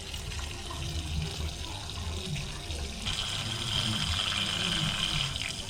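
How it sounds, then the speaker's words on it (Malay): Water is scooped and poured while an aquarium filter is cleaned, a continuous splashing, running flow that grows louder and brighter toward the end. "Lepas tu cebok air."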